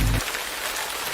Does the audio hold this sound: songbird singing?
no